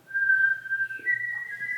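Clear, steady human whistling as an embouchure demonstration in a clarinet masterclass: one sustained tone that steps up in pitch midway, heard alone and close.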